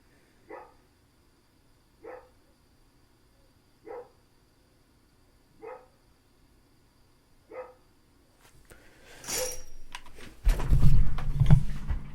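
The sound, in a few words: dog barking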